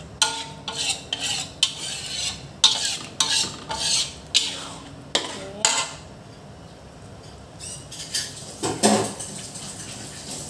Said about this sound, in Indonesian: Saya akan tuang semua saya punya air asam ini, sebab saya akan tambahkan air juga.